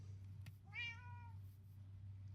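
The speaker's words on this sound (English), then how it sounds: "It's a wither cat." Minecraft cat giving a single short, rising-then-falling meow, fairly clear over a steady low hum from the game.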